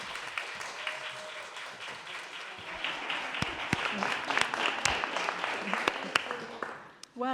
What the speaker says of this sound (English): Well, unanimous applause.